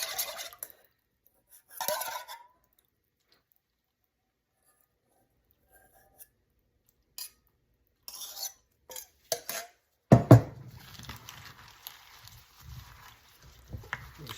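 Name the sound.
tossing golden beet and spinach salad with dressing in a big bowl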